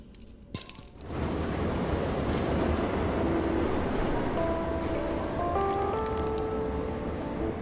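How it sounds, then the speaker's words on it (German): Subway train pulling into a station in the game Orten: Was the Case: a few clicks at the start, then a steady, loud rail rumble with rising tonal whines as the train comes in. "wenn ich diesen Schalter drücke, wird das Signal grün und die U-Bahn kommt rein"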